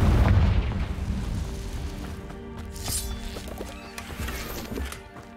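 The Confringo fire spell goes off in Hogwarts Legacy, a deep booming explosion at the start that trails into a rumbling decay with game ambience and scattered chimes beneath.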